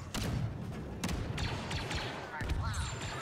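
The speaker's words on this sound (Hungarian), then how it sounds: "A robbanás megvolt!" Gunfire and explosions boom and crackle continuously in the Star Wars Battlefront 2 video game, dense and layered, with a sharp burst near the start and heavy thumps throughout.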